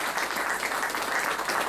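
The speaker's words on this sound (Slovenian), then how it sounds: "En aplavz." Audience applause at a Slovenian conference panel on the fourth industrial revolution, a steady wash of clapping filling the short moment without a break.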